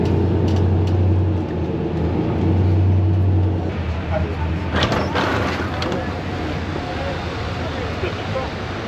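Bus in Albania heading into the city centre, a steady engine drone and road rumble filling the scene, with louder rattles and clatter partway through.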